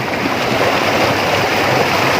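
Irrigation canal water in rural Punjab, Pakistan, flows in a steady, dense rushing wash with no breaks, close and fairly loud throughout.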